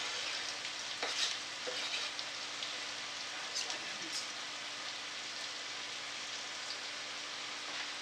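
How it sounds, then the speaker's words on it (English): Diced celery, green pepper and onion frying in a pan for white chicken chili, an even hissing sizzle like steady rain, with a few faint stirring knocks early on, close and continuous. "in with the diced and chopped celery, green pepper, and onion"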